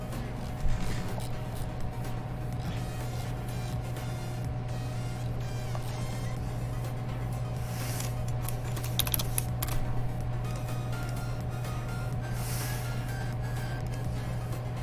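Computer keyboard clicks as code is typed for a Unity AR game, faint and intermittent over a steady low electrical hum.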